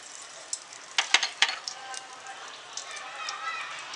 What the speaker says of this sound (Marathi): तेल आपलं गरमच आहे. त्या तेलामध्ये मी हिंग टाकते.